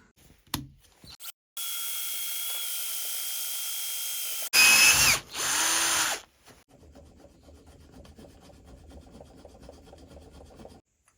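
A drill bores a 3.5 mm hole in knife steel in a home workshop, making two sustained grinding bursts, the second louder and harsher, followed by a quieter low hum.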